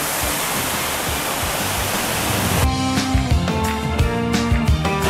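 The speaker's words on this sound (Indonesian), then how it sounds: "Ini ada air mengalirnya ya dengan gemercik, suara gemercik air." Water flowing and trickling at Telaga Al Kautsar in Wonopringgo, Pekalongan: a loud, steady rushing wash of water, near and continuous, then abruptly shifting to a brighter, more textured splash with faint tonal sounds underneath.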